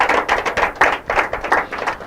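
Applause at a school quiz and debate competition, a brisk run of rhythmic clapping from a small group, close and fairly loud, with no voices over it.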